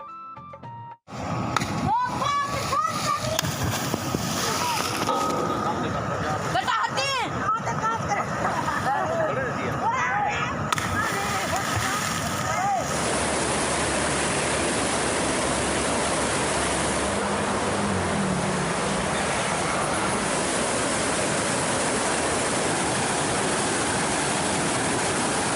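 Children jumping from a barrage into the Indus River, with a dense, continuous rush of splashing and churning water that runs loud and steady, preceded by a stretch of voices over the water noise.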